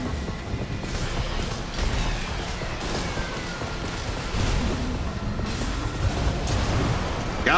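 Explosions and mech combat in the Armored Core VI video game: a continuous roar of booms, bursts and mechanical clatter, loud throughout, with no voices.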